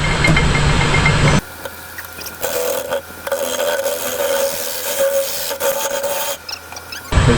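A wood lathe turns a wet blank while a tool roughs it out at 513 RPM, giving a steady rasping, scraping hum that drops in after a louder opening and holds close and continuous for several seconds.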